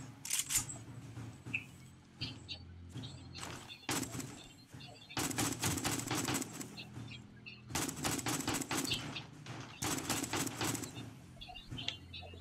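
Rapid bursts of automatic gunfire during a horde night in a survival video game, sharp crackling volleys repeating in clusters over twelve seconds, with quieter gaps between them and faint talk underneath.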